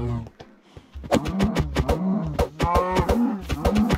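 Cows in the Minecraft video game moo in several loud, close, drawn-out calls, one after another with short gaps, with no talking over them.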